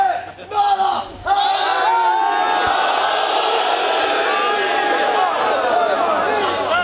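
A large crowd at a Shia religious majlis roars back a slogan in unison, a loud, sustained, massed shout that swells in after a short voice and holds steady to the end.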